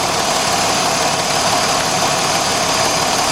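A 2006 Jeep Grand Cherokee Laredo with the 3.7 engine idles steadily and loudly up close, its cylinder 3 misfire now cleared, giving an even, continuous mechanical drone with no talking.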